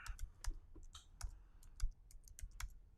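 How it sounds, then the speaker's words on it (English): Quiet typing on a computer keyboard indoors: irregular, soft key clicks and taps in uneven bursts with short pauses, heard alone without talking. "I'm gonna just type it in here."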